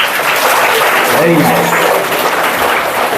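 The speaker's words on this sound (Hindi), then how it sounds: "अपनी जोर से ताली बजाओ।" An audience at a motivational talk about passing exams claps loudly in a dense, continuous burst while a voice speaks briefly over it.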